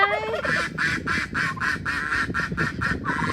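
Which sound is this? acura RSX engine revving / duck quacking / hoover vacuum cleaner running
duck quacking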